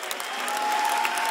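Audience at a live concert in Los Angeles applauding for a singer, a steady wash of crowd clapping that swells slightly, with a faint sustained tone underneath.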